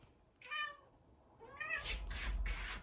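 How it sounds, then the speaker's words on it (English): A house cat meows twice at close range, a short call then a longer one, followed by a burst of louder rustling noise. "I have a cat."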